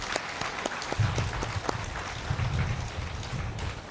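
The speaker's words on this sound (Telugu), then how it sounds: "సో గట్టిగా విశాఖపట్నం వాళ్ళ క్లాప్స్ కొట్టుకున్నాం." Applause from a Visakhapatnam audience at a spiritual retreat gathering, a dense, steady patter of many hands clapping loudly throughout, with no voices heard.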